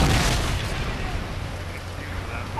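Predator missile explosion in Modern Warfare 3, a loud boom at the start that rolls into a long dull rumble under steady battle noise.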